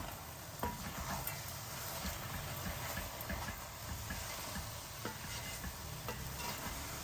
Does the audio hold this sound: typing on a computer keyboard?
no